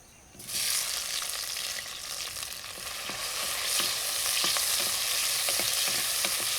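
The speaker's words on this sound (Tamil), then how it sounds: "அடுத்தது வந்து தக்காளியை நம்ம வதக்கிக்க போகிறோம்" Two cut tomatoes dropped into a hot pan start frying with a sudden steady sizzle that holds close and even, with faint occasional stirring clicks and no voices.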